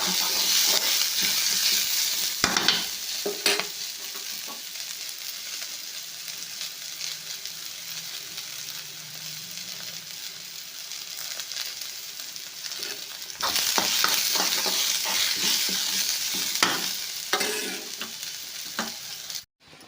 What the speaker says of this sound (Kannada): ಇದು ಸ್ವಲ್ಪ ಫ್ರೈ ಮಾಡ್ಕೊಂಡ್ಬಿಟ್ರೆ ಆಯಿತು